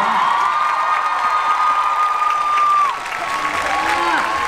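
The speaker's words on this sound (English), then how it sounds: "one last round of applause for these two wonderful people" Audience at a VidCon event applauding and cheering, a dense sustained burst of clapping with whoops, while a voice talks over the crowd.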